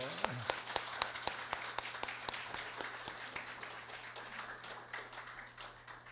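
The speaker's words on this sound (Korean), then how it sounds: "다시 한번 박수해 주십시오." Applause at a church gathering after an instrumental ensemble's performance; a few sharp, close claps start it, then broader clapping carries on and fades gradually, with a low steady hum underneath.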